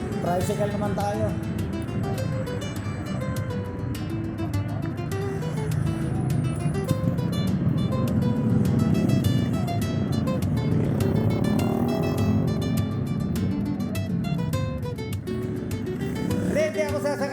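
A motorized tricycle ride in the Philippines, with the steady drone and rattle of the small engine running continuously up close, someone talking over it.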